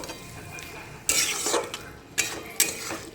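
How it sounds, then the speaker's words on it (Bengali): Spoon stirring whisked sour yogurt into a mushroom and potato curry with spices in a pan, giving three distinct bursts of scraping and wet mixing against a low background, with no voices. "টক দইটা দিয়ে খুব ভালো করে আবার নাড়াচাড়া করে নেব"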